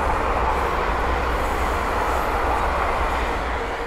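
A pair of London Northwestern Railway Class 350 electric trains passes on the main line at Linslade, a steady broad rumble and rushing roar that holds throughout and only slightly eases at the end.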